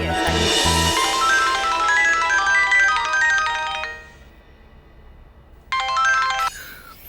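A mobile phone ringtone plays a bright, repeating melodic tune for an incoming call, then stops and briefly starts again, loud and close with no talk over it.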